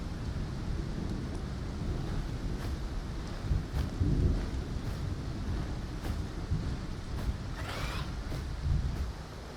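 Steady rain hisses throughout while low thunder rumbles roll beneath it in the video game Path of Titans, with a brief whooshing gust near the end.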